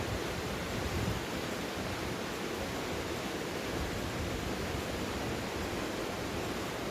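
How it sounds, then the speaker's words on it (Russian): Waterfall in the mountains near Sochi, with snow-white water tumbling down the slopes, roars as a steady, dense, full-band rush that holds even and unbroken throughout, with no voices. "И белоснежный водопад скатывается с этих гор."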